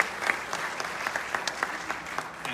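Audience applause at a film screening event, steady scattered clapping from a modest crowd, moderately close and continuous, with no talk over it.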